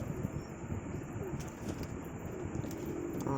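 Lotan pigeons, including a single male of top quality, coo in low, continuous murmurs close by, with steady rustling and background noise throughout.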